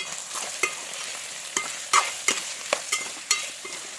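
Onions fry in a pan with turmeric, a bright close sizzle punctuated by a series of sharp spatula scrapes and clicks roughly every half second as they are stirred.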